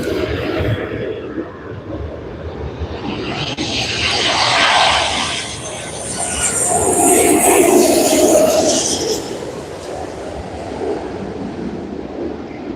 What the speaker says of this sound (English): United flight coming in.